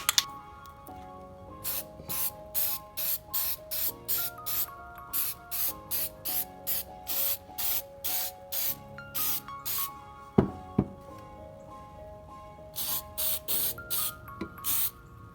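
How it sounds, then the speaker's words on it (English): Short bursts of a spray can misting gloss lacquer onto a restored old hatchet, about two dozen rhythmic hisses with brief pauses, close and clear, plus a couple of sharp clicks from handling. "I have this gloss lacquer I'm going to finish it off with."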